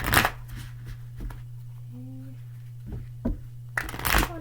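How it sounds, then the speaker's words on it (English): Tarot cards are shuffled in short bursts of papery riffling at the start and end, with softer flicks between them over a faint steady hum. "I'm going to shuffle the cards a little bit,"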